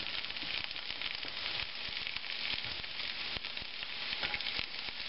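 Diced onions added to potatoes frying in a skillet give a steady, dense sizzle with faint crackles, close but fairly quiet, with no talking.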